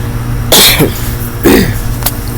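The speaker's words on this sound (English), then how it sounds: "I still got this little crazy cough" Two harsh, loud coughs about a second apart, close to the microphone, over a steady low hum, then a short faint click.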